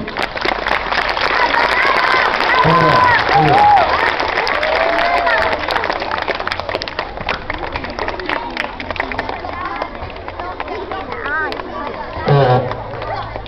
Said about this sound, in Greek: ένα χειροκρότημα λοιπόν